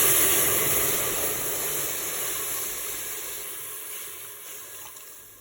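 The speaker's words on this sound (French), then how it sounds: "On va commencer par mettre nos 500 ml de lait." Milk, 500 ml, poured into a preheating Cookeo multicooker, a steady close liquid hiss that slowly fades over a few seconds, with no talking.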